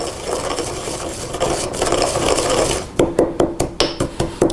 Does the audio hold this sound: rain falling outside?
no